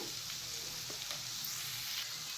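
Cumin powder and chili powder frying in a pan while making vegetable kichidi, a steady soft sizzle with faint stirring scrapes, close but quiet.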